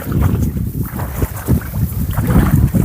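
Strong wind blows outdoors at a fishing spot, buffeting the microphone in loud, rushing gusts throughout, with no voices.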